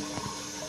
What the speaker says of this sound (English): I have to flush this fast